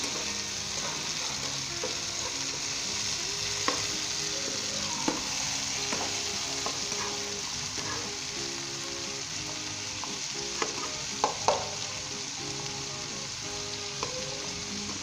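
Peas, carrots and egg sizzle steadily in a pan for a Bihari bhujia while a utensil stirs through them, producing a constant close frying hiss with scattered light scraping taps and no talking.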